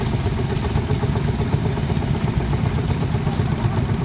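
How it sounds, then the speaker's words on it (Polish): A steady, rough petrol Ferguson TEA tractor engine with low exhaust chugs continuously at close range, a low mechanical rumble with a faint clatter and no voices. "Tak zwany TEA, bardzo przyjemne traktorki, też benzyna, wydech dołem"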